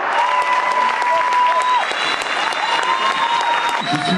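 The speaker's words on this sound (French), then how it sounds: "Mesdames et messieurs, faites appel à l'applaudissement, s'il vous plaît" Audience applause at a French stand-up comedy show by Nino Arial, a loud, continuous wash of clapping from a packed hall, with sustained musical tones running beneath it.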